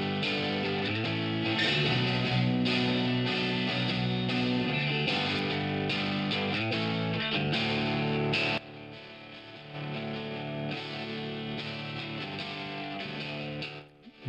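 Electric guitar processed with a Waves reverb plug-in, a distorted riff of rhythmic chords that drops in level midway, then returns and rings out with a lingering tail.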